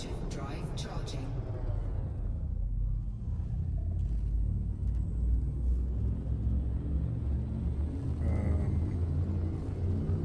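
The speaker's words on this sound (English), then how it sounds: "Frameshift drive charging" Elite Dangerous frame shift drive charging in the video game: a steady, loud low rumble with a rising hum that builds through the whole stretch, with a brief voice near the start.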